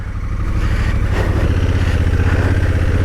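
A new motorcycle pulls away in first gear, its engine loud and close, a throbbing drone that climbs in pitch as the bike accelerates.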